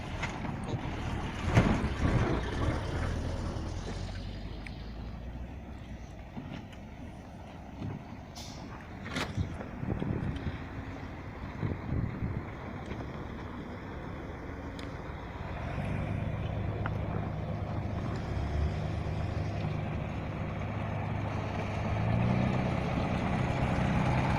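A car drives off a river ferry crossing the Vychegda at Urdoma in the Arkhangelsk region, with a steady engine rumble building over wind and water noise, a few sharp knocks early on, and a low hum growing in the last seconds.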